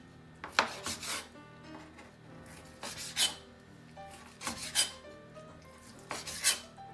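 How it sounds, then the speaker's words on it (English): A knife saws and chops through Chinese BBQ pork on a board, a few rasping strokes each ending in a soft knock, repeated in short groups at close range. "Cut little half inch to 1/4 inch thick pieces."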